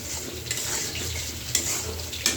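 Fish frying in a pan, coated in turmeric, chili, coriander and ginger paste, a steady sizzle with a few sharper spatula scrapes and clinks, close and continuous with no voices.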